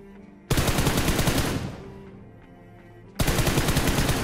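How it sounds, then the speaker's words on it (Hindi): Loud automatic gunfire from the video game PUBG comes in dense rapid bursts, then a fading echo tail, then another sustained volley, with no talk. "फायरिंग आपने सुनी होगी।"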